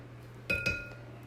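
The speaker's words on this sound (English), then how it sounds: "we're just going to mix until the honey dissolves" Spoon clinking twice against a glass jar while stirring honey into elderberry syrup, two quick bright close taps with a short ringing tail in an otherwise quiet room.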